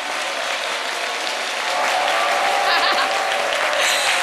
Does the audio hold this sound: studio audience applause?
yes